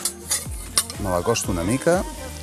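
Stirring oil into a pot of potatoes while cooking: a spoon scrapes and clinks against the pot in quick strokes over a light sizzle, with a voice speaking briefly.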